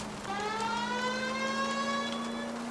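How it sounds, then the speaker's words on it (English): A police car's wailing electronic siren in the video game L.A. Noire rises and holds steady in pitch, continuous and moderately distant, with faint engine noise beneath. "at least use the siren."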